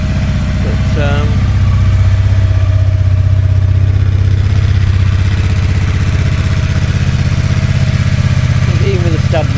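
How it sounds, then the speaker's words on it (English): A Honda Bros 650 motorcycle engine idles steadily nearby with a low, even throb throughout, while a person talks briefly over it at the start and near the end. "It runs and idles perfectly"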